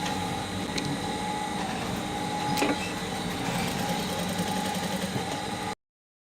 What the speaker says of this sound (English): I'm going to be sewing at the edge.